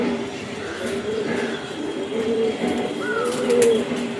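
A female pigeon coos in soft, low wavering notes over a steady background hum, with a few brief higher calls near the end.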